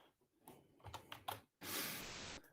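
Computer keyboard typing in a quick burst of separate close clicks, then a steadier dense patter that rises briefly louder before stopping, with no voices.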